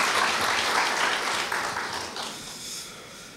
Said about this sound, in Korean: 따뜻한 박수로 염재호 총장님을 맞이하여 주시기 바랍니다